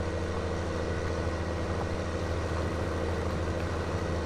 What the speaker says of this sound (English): Ooh, this tractor's slipping.